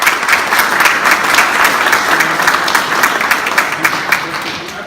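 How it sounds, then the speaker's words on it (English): Steady crowd applause at a charity motorcycle ride, many hands clapping continuously and loudly for the full stretch, with a few louder individual claps standing out near the end. "So give yourselves a round of applause,"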